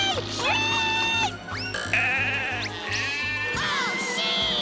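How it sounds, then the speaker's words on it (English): Cartoon sheep bleat repeatedly in a wobbly, high-pitched chorus over lively orchestral music and a droning plane engine, the calls loud and close. "Oh, sheep!"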